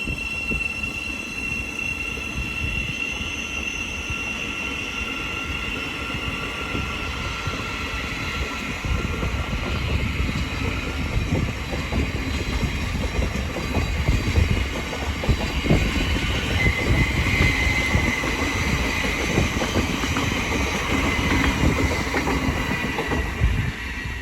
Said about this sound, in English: Now departing is the 1458 Thameslink service from Cambridge to Brighton.